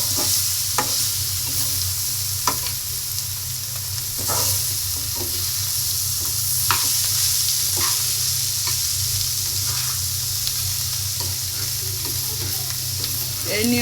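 Bitter gourd slices (karela) fry over a medium flame in a pan, a steady close sizzle with periodic scraping stirs of a spatula at irregular intervals, no voices.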